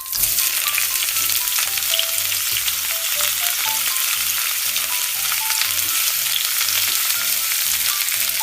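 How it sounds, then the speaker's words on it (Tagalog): Garlic and onion sauté in margarine in a pan for macaroni spaghetti, giving a loud, steady sizzle that runs unbroken through the whole stretch with no talking. "maglalagay na nga rin ako dito ng margarine at magigisa na nga rin ako ng bawang sibuyas."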